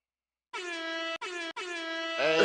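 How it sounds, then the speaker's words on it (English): A soundboard air horn blares three loud, sustained blasts separated by short gaps, and a burst of louder, rougher noise follows. "I want that air horn"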